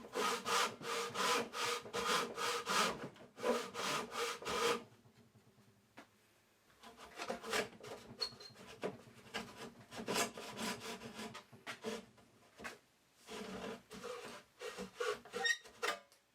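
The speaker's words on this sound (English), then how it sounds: "I'm going to keep sawing in this fashion until I've gone deep enough to get through the side of the box." A hand saw cuts through the side of a wooden mitered corner box with steady back-and-forth rasping strokes, close and rhythmic, broken by a brief pause before the strokes resume, with no talking.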